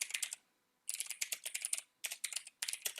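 Typing on a computer keyboard enters text into a shape in a Hangul word-processor document, heard as quick clusters of crisp, close keystrokes separated by short silent gaps.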